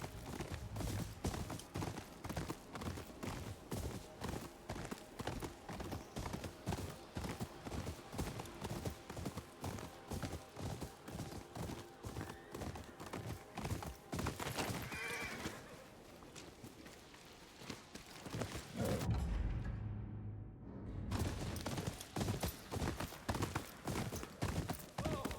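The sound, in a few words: horses galloping in video game Ghost of Yōtei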